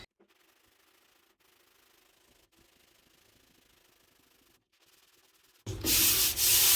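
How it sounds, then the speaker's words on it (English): Block sanding on a Ford Bronco body during paint prep before priming: faint, steady rubbing strokes build into a loud, close, gritty scrape near the end. "I'll sand it off, and then I'll be able to prime it"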